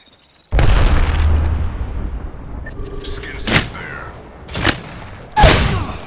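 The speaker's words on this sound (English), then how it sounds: "Grenade incoming." A frag grenade goes off in the Apex Legends shooter game as a loud, sudden blast, followed by a rumbling tail and several sharper bursts of battle noise.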